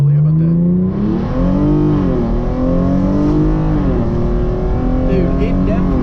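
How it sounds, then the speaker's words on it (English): A Hyundai Genesis Coupe floored at full throttle in first gear with traction control off, its engine roaring loud and close as the pitch climbs steadily through the rev range, briefly dipping and rising again. "First gear, traction, everything off. We're just gonna floor it."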